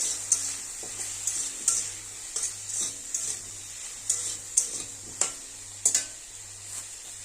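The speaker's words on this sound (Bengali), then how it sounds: "ভালো করে মিশিয়ে নেব তেলের সাথে।" Mango chutney being stirred with oil and turmeric in a pan, a spoon scraping and tapping in an irregular rhythm over a faint sizzle and a low steady hum.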